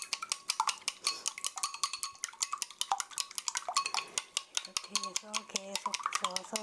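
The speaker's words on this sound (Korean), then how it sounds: "노른자와 흰자가 잘 섞이도록 해주시면 돼요." Egg yolk and white are beaten together in a bowl with a utensil for kimchi fried rice, a rapid run of light metallic clinks and taps in a quick, steady rhythm, close and clear.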